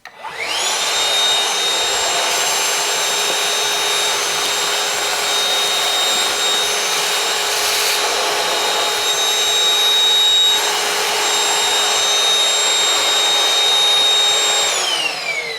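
A Ryobi 18V ONE+ 3-gallon portable wet/dry vacuum (P3240) fitted with a small nozzle, running steadily and loudly close by with a high whine from start-up to shutdown, no talk.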